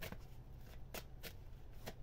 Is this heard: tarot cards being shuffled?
yes